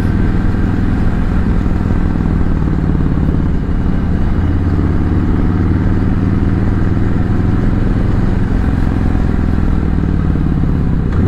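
A 2018 Harley-Davidson Sport Glide rides along a small bumpy road, its loud engine a continuous deep throbbing rumble close by with constant wind noise.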